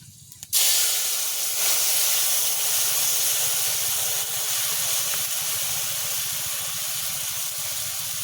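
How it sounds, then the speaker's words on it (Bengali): Soaked tamarind water hitting a hot pan of spices and dried chilli for a river prawn sour curry, bursting into a loud, steady hiss that holds near and strong without fading. "এবার ভিজিয়ে রাখা তেঁতুলটাকে চটকিয়ে ঢেলে দেবো জলটা।"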